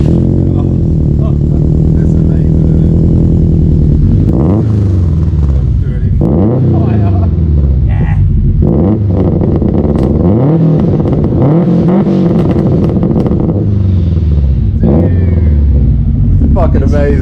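A tuned 500 bhp Subaru Forester XT with a huge five-inch exhaust tip revs hard and loud up close, its deep engine roar rising and falling repeatedly.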